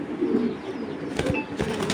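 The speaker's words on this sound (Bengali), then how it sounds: "বেজি কবুতর খুবই শক্তিশালী একটা কবুতর" Beji pigeons coo softly in a loft, low throaty murmurs close by, mixed with faint rustling and a couple of brief higher chirps.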